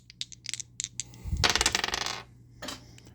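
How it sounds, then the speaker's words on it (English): Dice clattering during a tabletop card game, a burst of rattling hits that peaks and fades over about a second, then a final small click, all close and fairly quiet with no talking. "Roll the dice."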